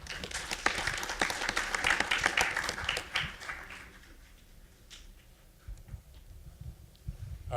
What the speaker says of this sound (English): Let's give a round of applause for John.